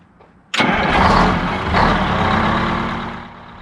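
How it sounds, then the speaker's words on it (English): A large bus engine cranks and catches with a sudden loud burst, then settles into a heavy, steady rumble that gradually eases off. "So I'm going to start the bus again and let it pull it forward."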